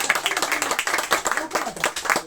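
Audience clapping at a traditional poetry event, a short burst of brisk, fairly close handclaps with a voice speaking over them.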